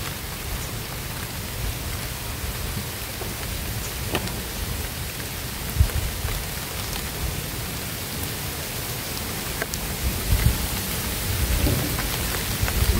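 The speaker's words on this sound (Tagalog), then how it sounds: "Makas na yata yung ulan." Heavy rain pours in a dense, continuous roar, with low thunder rumbling now and then beneath it and no voices present.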